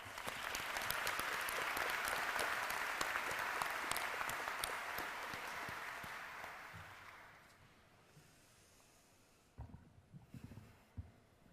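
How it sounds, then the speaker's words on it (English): Audience applause at a graduation ceremony. It is full and sustained at first, then fades into scattered claps and faint room noise. "I'd like for us to give him one more round of applause"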